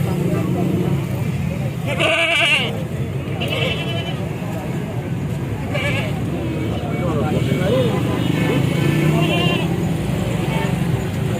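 Goats bleating at the Shahpur Kanjra livestock market, a few loud nasal bleats breaking through a busy crowd and traffic noise, with people talking throughout.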